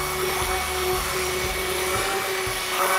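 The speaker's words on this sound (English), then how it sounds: "we use these little immersion blenders to like mix our things" A small immersion blender mixes colored soap in a soap-making shop, giving a continuous close motor whine with a steady buzzing drone and no pauses, alone with no talking.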